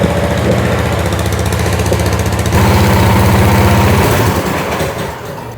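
A Chinese mini excavator's engine runs steadily on a test run after hydraulic repair work, a loud close rumble with a throbbing idle that shifts pitch slightly midway and eases off at the end; no talking.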